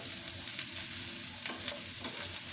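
Capsicum stir-fries in a pan as a spring roll filling is being cooked, giving a steady, soft hiss of frying with occasional scraping stirs. It is heard quietly and alone, without talk.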